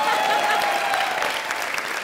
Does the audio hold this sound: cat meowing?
no